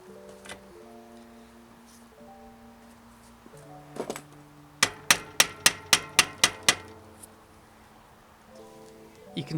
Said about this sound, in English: finishing it off with a few light taps with a mallet